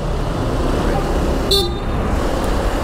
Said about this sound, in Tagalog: Liliko ako, bigla akong bumusina.